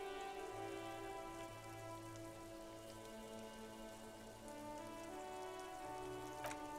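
Steady rain in the video game Disco Elysium hisses throughout, a dense even wash of falling water with a low hum and faint tonal music underneath.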